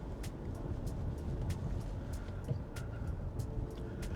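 A 2022 Kia Sportage drives through the old streets of Sydney, with a steady low road and engine rumble and faint passing hiss, plus a few brief higher knocks and clicks scattered throughout.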